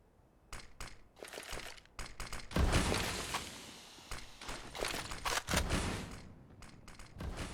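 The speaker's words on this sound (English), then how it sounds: "He's going to try to gunfight this one to his death." Rapid gunfire crackles through a Counter-Strike firefight on Dust 2, with dense rifle bursts and single shots overlapping in loud, sharp clusters.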